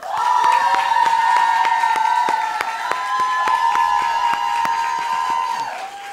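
Audience applause and cheers greet a bassist being introduced during a small live Tiny Desk Korea band set, with loud sustained instrumental tones ringing underneath the scattered claps throughout.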